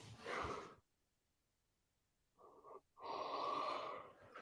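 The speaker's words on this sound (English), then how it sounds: "I'm going to yawn again. I feel it coming." A person yawns with a breathy inhale, a short pause, then a long drawn-out exhale, close and fairly quiet.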